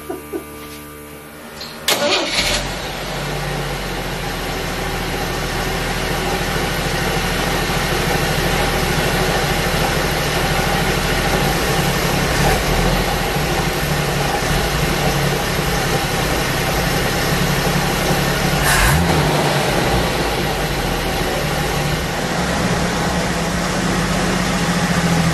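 An old vehicle's engine cranks briefly and catches, then settles into a steady, loud idle that runs on alone with a small surge partway through.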